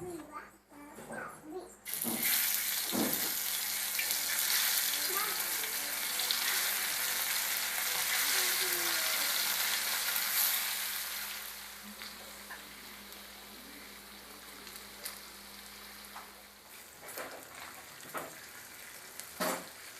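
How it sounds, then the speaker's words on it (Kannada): Fish frying in a pan in a home kitchen, a loud steady sizzle that runs for most of the clip, with a few clinks of stirring and faint children's voices nearby. "ನಾನು ಒಂಜಿ ಫ್ರೈ ಮನ್ಪೆರುಂಡು ಮೀನು ಫ್ರೈ ಮನ್ಪೆರೆ"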